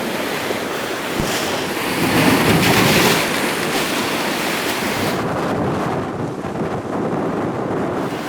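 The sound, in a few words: large sea waves breaking, white surf overflowing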